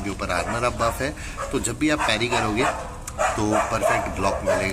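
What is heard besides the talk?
dogs barking in the street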